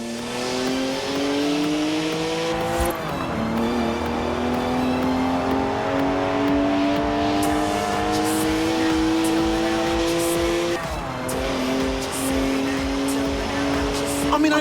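A BMW 1M in Forza Horizon 4 accelerating hard: a loud, close engine climbs in pitch through the gears, with two clear drops at the gear shifts, and the roar stays steady the whole time.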